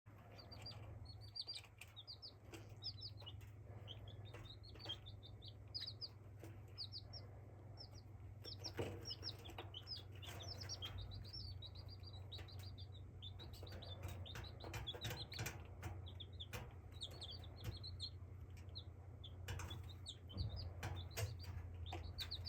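Baby chicks peep constantly in a brooder under a heater, a dense chorus of high chirps over a steady low electrical hum, with occasional soft rustles and wing flutters nearby.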